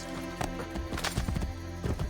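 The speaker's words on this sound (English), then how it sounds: "madam, I need your horse," A horse in the Assassin's Creed Brotherhood video game clops along in quick, irregular hoofbeats, with a neigh mixed in, fairly close and alone over low game ambience.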